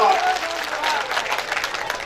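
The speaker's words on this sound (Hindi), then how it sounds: "जोरदार तालियां बजाइए, जोरदार तालियां" Crowd applause at a school function, a brief burst of clapping with voices and a faint tonal sound mixed in at the start.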